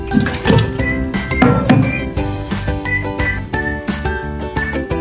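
Soaked glass vermicelli noodles are rinsed under running cold water, a steady splashing and trickling stream heard beneath background music.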